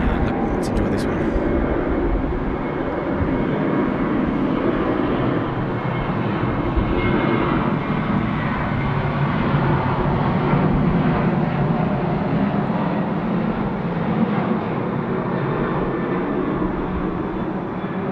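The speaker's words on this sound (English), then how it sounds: "We've got our Velocity 738 now rolling, runway 16 right." A Velocity Boeing 737-800 starts its takeoff roll on runway 16 right at Sydney Airport, a steady, loud broadband jet-engine roar that holds for the whole stretch, with faint voices underneath.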